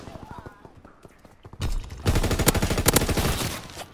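Rapid bursts of gunfire in a World War II shooter game, sparse at first and then a dense, loud volley of shots in the second half, with a voice talking over it.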